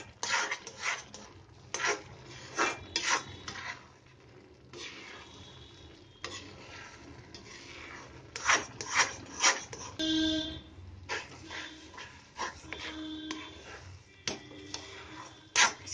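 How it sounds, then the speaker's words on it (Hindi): Egg halwa being roasted in ghee in a pan produces intermittent scraping and stirring strokes with a soft sizzle underneath, the bursts coming in irregular clusters with quieter gaps. "इसे तब तक भूनना है जब तक सारा हलवा एक जगह इकट्ठा लड्डू की तरह ना होने लग जाए"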